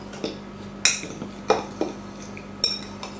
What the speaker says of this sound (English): Just kind of mix it together.